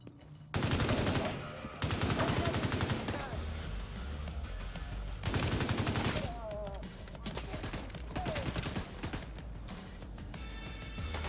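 Explosive rounds in Tom Clancy's The Division 2 fire in loud, rapid bursts with sharp cracking impacts, several long volleys separated by brief pauses, while a voice talks over the action.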